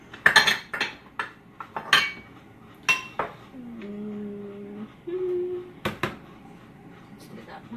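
Kitchen bowl being handled on a counter during soap making, with sharp clinks and knocks of dishware scattered through, a short resonant ring, and background clatter.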